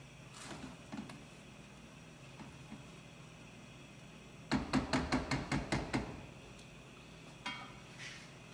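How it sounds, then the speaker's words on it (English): A spoon stirs creamy shrimp risotto with peas and mushrooms in a pot, giving a quick run of about eight rhythmic scraping clicks over a quiet room, followed by a couple of softer, scattered taps. "And you kind of mix it around a little bit"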